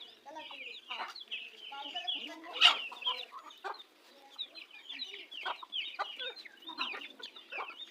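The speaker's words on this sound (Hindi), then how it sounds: "देखें आपस में बड़ी मुर्गियाँ भी लड़ रही हैं" Several chickens cluck and squawk continuously at close range as large hens fight among themselves, with one sharp louder squawk partway through, a busy flock chattering together.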